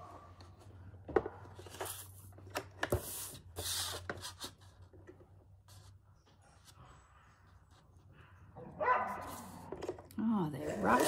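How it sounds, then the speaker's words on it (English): Several dogs bark and yip in short bursts during rough play, with a steady low hum underneath and rustling nearby, the barking growing busier toward the end. "they're rough, those dogs. Talk about rough play."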